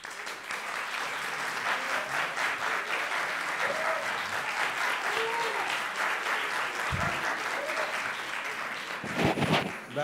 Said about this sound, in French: Vu tous ces applaudissements